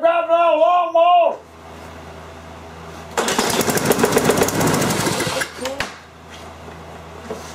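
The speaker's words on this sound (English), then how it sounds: "Got a guy here driving out a lawnmower!" A lawnmower engine roars loudly and steadily for a couple of seconds, then cuts off abruptly; a voice speaks briefly before it starts.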